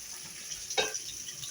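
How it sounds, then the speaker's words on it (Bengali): Fish frying in a pan for a home-cooked curry: a quiet, steady sizzle with one brief louder crackle partway through. "মাছটা ভাজতেছি তরকারিটা হচ্ছে দেখেন"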